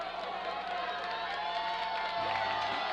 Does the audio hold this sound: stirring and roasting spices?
no